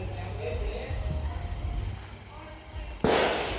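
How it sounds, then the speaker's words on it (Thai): Murmuring background noise on a New Year's Eve night, then a sudden loud firecracker bang near the end with a crackling burst that carries on to the close. "เป็นควันที่เขาเจ้าจุดประทัด"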